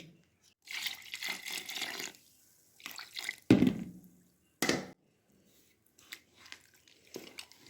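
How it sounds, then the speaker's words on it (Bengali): Milk is poured and mixed into a patishapta pitha batter. Short, close wet splashes and sloshing bursts come in an irregular rhythm with quiet gaps between them, and no one speaks. "এখানে আমি আরেকটু দুধ দিয়ে দিচ্ছি।"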